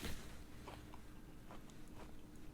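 Crispy spicy chipotle shrimp, coated in smoky chipotle and paprika and served with jalapeno, being bitten and chewed at close range, giving a few scattered crunches over roughly two and a half seconds with no talking.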